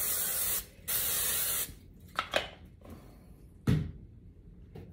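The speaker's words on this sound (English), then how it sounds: "And then I'm going to spray it again." Two long hissing bursts of cooking spray into a baking pan, close and loud, followed by a few light clunks and rustles.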